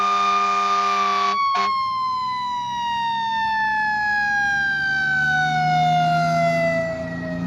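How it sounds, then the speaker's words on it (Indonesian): A red toy fire engine plays an electronic siren, a steady wailing tone gliding slowly downward with a brief click-like break near the start, close and continuous without speech. "di sini kita menemukan mainan. Ini adalah si mobil damkar."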